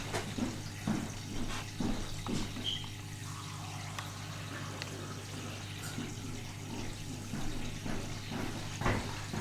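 Purified water being poured over dry kale while preparing a raw green lemonade, a steady trickling stream with a few soft splashes over a constant low hum throughout.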